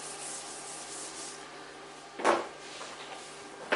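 A duster rubs writing off a classroom board in a short, close swipe with a soft scrubbing rasp, then a fainter brush at the end over a quiet room.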